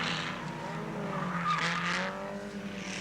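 Holden Monaro touring cars in a 1970 Tasman Series production touring car race, tyres squealing and skidding loudly over steady engine roar for a few seconds, with no voices.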